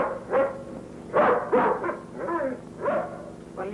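A dog whimpers and gives several short, yipping barks in uneven bursts, moderately faint and without talk, in an indoor scene from an old western TV show.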